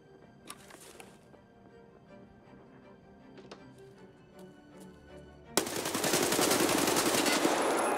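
Sustained burst of automatic gunfire in the Escape From Tarkov shooter, erupting loud and dense after a stretch of quieter scattered shots and background noise, rapid close reports continuing to the end.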